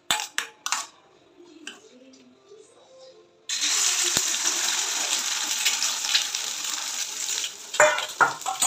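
Eggs for a double-yolk omelette hit a hot pan, and a few quiet clinks give way to a loud, steady sizzle of frying that lasts several seconds.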